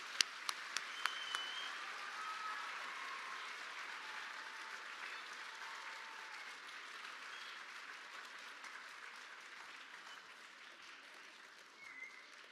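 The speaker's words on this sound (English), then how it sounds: "if you give him a round of applause, he will stand up and come up here" An audience applauds at a DARE graduation ceremony, with a few sharp, distinct claps at the start before broad, sustained applause that slowly thins out and softens toward the end.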